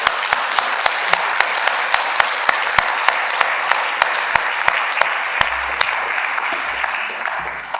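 A conference-hall audience applauds after a talk, a full, sustained wash of clapping with a few sharp individual claps standing out above it, loud and continuous throughout.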